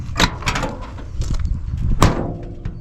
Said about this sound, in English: Feels really solid when you close it.